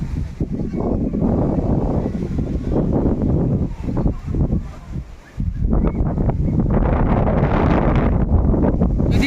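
Strong gusts of wind roar through a rainstorm in a rural village, buffeting the microphone in loud continuous waves that dip briefly before surging again.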